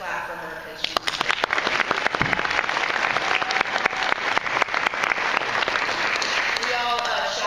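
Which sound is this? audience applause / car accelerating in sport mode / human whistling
audience applause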